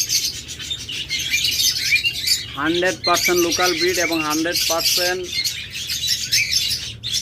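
Lovebirds and budgerigars chirp and tweet continuously in a crowded bird market, with high twittering throughout. Someone talks over the birds in the middle.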